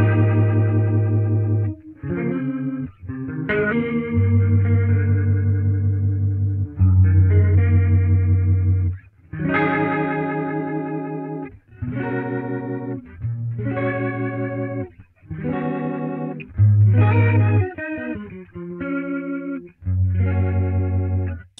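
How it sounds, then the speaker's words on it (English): A Line 6 Helix modeling the largest Leslie 145 rotary speaker cabinet swirls a sustained chordal tone, each held chord pulsing with rotating-speaker warble, played alone in a series of phrases separated by short pauses. "So let's start with the biggest of the Leslie cabs and let's just see what we get."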